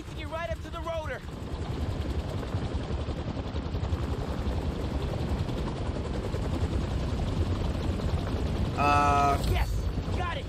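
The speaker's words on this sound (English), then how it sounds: "Need to get right up to the rotor." Helicopter rotor thumping throughout a Spider-Man 2 video game level, a steady loud chopping drone layered with game sound effects, with a voice-like tonal burst near the start and another near the end.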